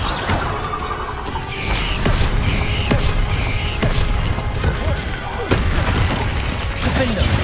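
Incendio fire spells cast repeatedly in Hogwarts Legacy during combat, with crackling whooshes and bursts recurring over dense game noise and a voice shouting over it.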